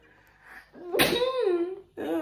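A single loud, close sneeze with a sharp burst and a drawn-out voiced tail, followed by a brief vocal sound.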